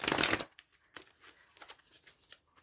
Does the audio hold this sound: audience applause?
no